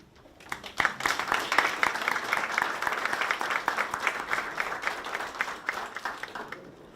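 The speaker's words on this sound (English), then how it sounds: "let's give you a round of applause" Audience applause at a school partners-in-education event, a dense crowd of clapping that swells in and holds steady at moderate volume from a large indoor room, with no talking.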